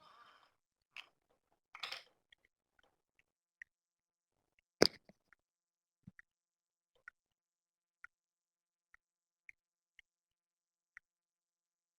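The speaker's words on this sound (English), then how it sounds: "You're typing." Light, sparse clicks of keyboard typing, a few scattered keystrokes and taps spaced out over a quiet background during a remote call, with no talking.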